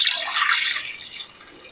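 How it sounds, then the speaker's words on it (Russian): Grape juice poured from a jar into a jug, a bright splashing pour that runs steadily for about a second and then thins out and trails off, with no voices. "сейчас мы его нальем в кувшин"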